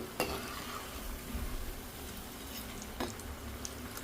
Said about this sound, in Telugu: ఇలా చక్కగా కలర్ వచ్చే వరకు వేయించుకోవాలి